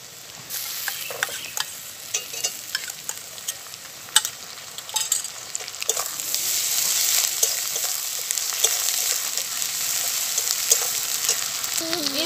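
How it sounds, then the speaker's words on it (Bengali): Garlic and ginger paste frying with onions in a pan for an egg omelette curry, a steady close sizzle broken by frequent scraping stirs that grows slightly fuller toward the end. "এবার আমি এর মধ্যে দিয়ে দিলাম 1 চামচ রসুন বাটা ও 1 চামচ আদা বাটা।"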